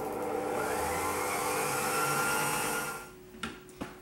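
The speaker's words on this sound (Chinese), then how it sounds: "蛋白霜已经搅了11分钟" Electric mixer whipping egg-white meringue for French macarons, a steady close whirring drone that cuts off near the end, followed by a couple of light knocks.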